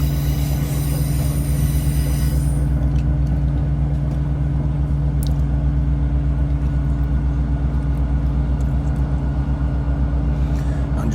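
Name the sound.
ScotRail passenger train travelling from Leven toward Edinburgh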